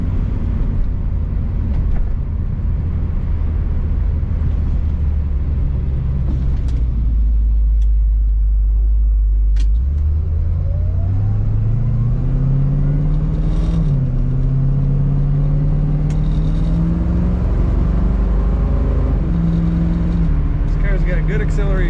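A 1969 Ford Mustang Mach 1 R-Code rumbles from inside the cabin, its deep engine note climbing through several rising pulls as it accelerates, steady and fairly loud throughout.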